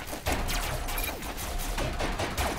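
Sustained bursts of gunfire rattle through a Robocraft robot battle, dense overlapping shots continuing without pause and fairly loud throughout.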